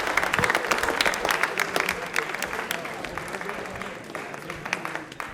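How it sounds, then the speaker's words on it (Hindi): Studio audience applause on a televised quiz show, a burst of clapping from a modest crowd with individual claps standing out, tapering off slightly toward the end. "तो ताली बजा दीजिए एक बार वाली"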